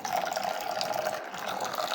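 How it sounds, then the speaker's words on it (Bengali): Water poured into a blended, strained sherbet, a short, steady gurgling stream of liquid filling a container, close and continuous, with no speech. "দিয়ে দিচ্ছি সামান্য পানি।"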